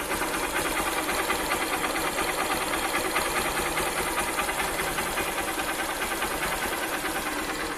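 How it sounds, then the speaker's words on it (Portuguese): A Honda Titan 150 carbureted motorcycle with its original camshaft, stock filter and exhaust idles close by, a steady, even, fast-ticking putter with no voices over it. "esse é o barulho com o comando original"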